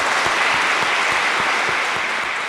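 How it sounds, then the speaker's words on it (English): Sustained applause from an audience after a debate between two speakers, a dense steady wash of clapping at constant loudness throughout. "please give a round of applause for both speakers"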